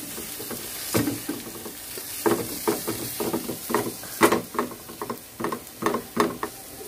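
Egg frying in a pan with vegetables for a breakfast stuffing, with a steady sizzle and repeated scraping strokes of a spatula in an irregular stirring rhythm, close and fairly loud.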